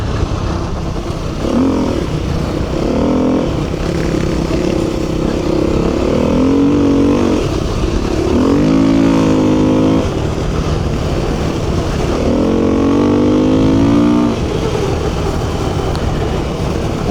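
Beta 390 and CRF 450 dirt bikes ride the Skytrek track in the Flinders Ranges, with engines droning steadily close by and several rising revs as the bikes accelerate over rough ground.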